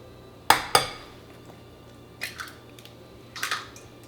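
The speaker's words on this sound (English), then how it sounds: "We're going to put 4 eggs into each bowl." Eggs cracked against the rim of a bowl while making frittata: two sharp, close taps near the start, then a few softer clicks and knocks later, all fairly near with no talking.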